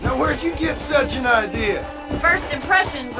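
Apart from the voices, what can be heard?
None of the usual background noises is heard.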